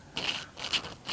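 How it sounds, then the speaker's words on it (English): The back of an airbrush being unscrewed, a faint, gritty, grating scrape in three short bursts, close and with no talk over it. "or is he undoing the back of a brush?"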